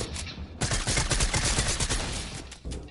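Sustained rapid SMG fire from a video game, a dense burst of overlapping shots running nearly three seconds after a brief pause, with a short final burst at the end; loud and close, no talking.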